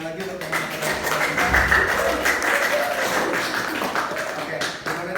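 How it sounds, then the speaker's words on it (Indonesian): Audience clapping at a student seminar on deforestation and flooding in Jakarta, a dense continuous round of applause from a room of people, fairly loud and close, with some voices mixed in. "Boleh beri tepuk tangan lagi untuk teman-teman."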